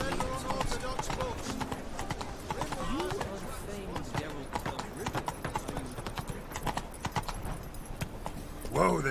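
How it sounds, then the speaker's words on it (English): A horse gallops in The Witcher 3, with brisk, rapid hoofbeats close by that continue throughout, while characters talk over the running and a short exclamation comes at the end. "Whoa there, Roach."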